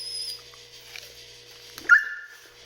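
An excited dog gives a single sharp bark, with a faint whine just before it and quiet surroundings otherwise.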